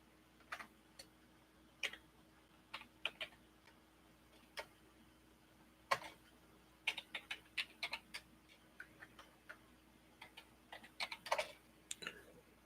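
Someone types on a computer keyboard while hacking, quiet irregular clicks coming in scattered bursts and short runs over a faint steady hum, with no talking.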